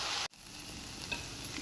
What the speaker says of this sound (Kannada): ನುಗ್ಗೆ ಸೊಪ್ಪನ್ನು ಹಾಕ್ತಾಯಿದ್ದೀನಿ. ಸೊಪ್ಪನ್ನು ಚೆನ್ನಾಗಿ ಫ್ರೈ ಮಾಡ್ಕೋಬೇಕು.